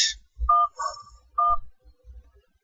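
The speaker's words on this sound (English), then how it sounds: "So we actually need to make a phone call." A telephone is dialed in the adventure game Syberia: a handful of short electronic tones sound one after another, close and clean, with a brief noise at the start and quiet gaps between them.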